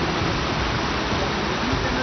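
Floodwater from the swollen Lendi river rushes over a bridge near Borgaon in Latur after heavy rain, a steady, dense roar with no break.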